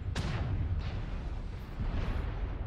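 Ultra autocannon fire from an Atlas AS7-D mech in MechWarrior: several heavy, booming bursts in quick succession over a dense, rumbling battle din, loud and close.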